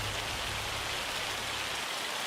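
Steady rain falls in the video game Farming Simulator 25, a dense hiss of drops that could pass for hail, close and even in level for the whole short stretch, with no talking.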